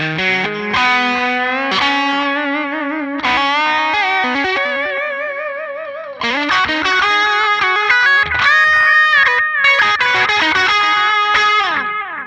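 An electric guitar plays a melodic line through light pedal distortion, delay and church-style reverb, with echoing repeats and a spacious reverb tail, loud and close with no voices.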